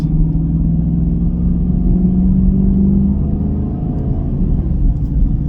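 A 2024 Chevrolet Camaro with the LT1 engine warming up, giving a steady, close low idle rumble with a constant drone and no revving.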